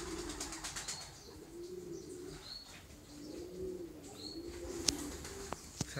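Pigeons coo softly in a corral, a low repeated murmuring with a few wing flaps and brief clicks near the end, faint and close.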